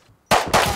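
An automated turret in the survival game Rust opens fire after a brief quiet moment, spitting a loud, close, rapid burst of shots that briefly breaks and then continues.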